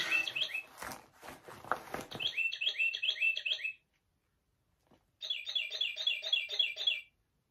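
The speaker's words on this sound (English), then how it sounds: "the bird clock." A bird clock sounds its chime of chirping, whistled birdsong in two bursts separated by about a second of silence, fairly loud and close indoors, with some rustling at the start.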